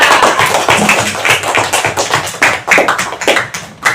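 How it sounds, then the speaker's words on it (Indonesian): Classroom applause for a group presentation: a small group claps loudly and close by in quick, uneven bursts, each sharp clap distinct, with no talking over it. "tepuk tangan dulu untuk kelompok 3"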